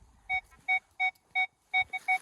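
Metal detector signal beeps from a search among ash trees for coins and a copper cross: a run of six short, clean electronic tones at a steady rhythm, then a quick seventh, with no voices.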